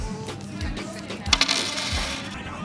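A vending machine drops out a Mars bar: a few soft mechanical knocks and a brief cluster of sharp metallic clinks midway, fairly close over low background noise.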